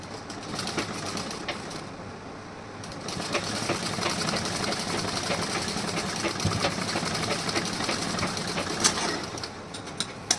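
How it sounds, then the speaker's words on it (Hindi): A sewing machine runs steadily while stitching a blouse seam, a continuous fast mechanical whir with a brief slowdown near the start, close and fairly quiet. "उल्टा करने के बाद यहाँ पे मैं सिलाई लगाऊंगी इस तरीके से"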